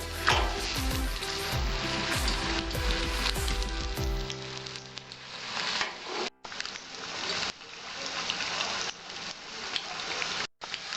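Banana flower chops (mochar chop) frying in a pan of oil, a steady dense crackling sizzle with bubbling spatters that runs throughout and thins slightly after the first few seconds, with two brief dropouts.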